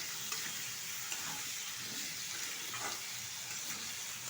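Soaked soybeans are stirred in a frying pan with potato and pointed gourd curry ingredients, giving a steady close sizzle and frying hiss with a few soft scrapes, with no one talking.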